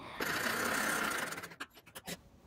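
Sewing machine stitching a seam on suit fabric with lining, a steady continuous whirring run that slows and breaks into a few short separate bursts near the end, close and alone.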